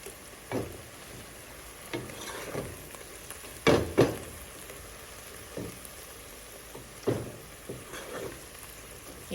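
Onions frying in a pan for a party chicken dish, a soft continuous sizzle with occasional louder stirring scrapes and clatters, close up and moderately quiet, no speech.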